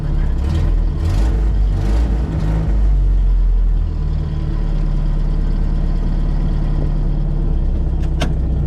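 A 1959 Land Rover Series II engine cranks and catches with a few uneven bursts, then settles into a loud, steady, rumbling idle close by.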